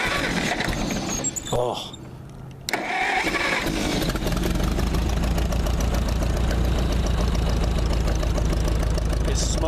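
A 1951 ZA engine cranking briefly, then catching and settling into a steady rumbling idle that runs loud and near; a voice speaks briefly over it.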